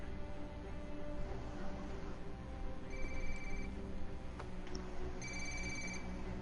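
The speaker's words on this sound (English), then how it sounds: "You're going to want to answer your phone, Officer Bowman." A phone rings in the video game Ghost Recon Wildlands, a faint repeating electronic ring sitting over a low, steady background drone of game ambience.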